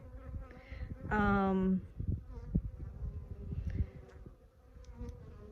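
Honey bees from a small colony under a shed floor buzz steadily at close range during a removal in Arizona, with one loud, rising whine from a bee passing near and some handling knocks and rustles.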